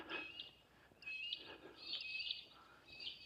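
Several birds call from up high outdoors near a railway crossing, faint and distant, with repeated high chirps and short whistled notes spread across the stretch, no talking.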